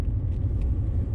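A Porsche 964 flat-six engine rumbles deep and steady from close by, a brief continuous growl without any voices.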